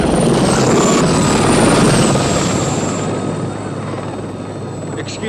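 Blue Thunder helicopter flying in for a demonstration, a loud dense rotor and engine roar with a high turbine whine that slowly fades a little as it passes.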